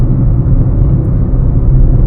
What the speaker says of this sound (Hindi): यहाँ फिर से रंबल स्ट्रिप्स हैं